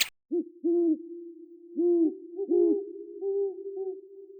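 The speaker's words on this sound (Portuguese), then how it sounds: "Um som profundo e distante na noite, o chamado de uma coruja" An owl hoots in a forest at night, a series of deep, distant calls in irregular groups spread across a few seconds, with silence between them and no voices.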